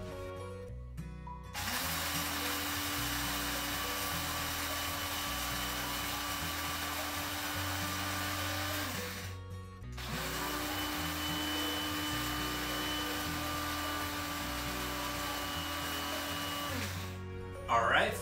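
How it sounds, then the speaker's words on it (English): A coffee grinder grinds beans in a steady, continuous whirring drone that runs for several seconds, stops briefly, then resumes, close and fairly loud with no talk over it. "Let's grind it up."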